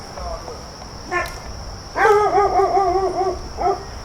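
A skeletal, chained pit bull outdoors lets out a few brief yelps and whimpering barks, the last two seconds holding a longer, wavering whine, all close under a steady high hiss with no talk.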